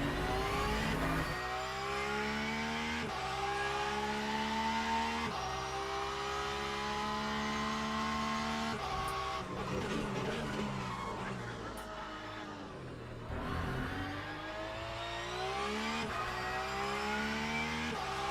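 Porsche GT3 race car engine in the Le Mans Ultimate sim, loud and continuous, rising and falling through gear changes with a brief lift near the end before climbing again; a voice briefly talks over it.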